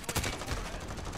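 Rapid automatic gunfire from a Grau 5.56 rifle in Call of Duty: Modern Warfare rattles out in a dense, loud burst of repeated shots, close and continuous.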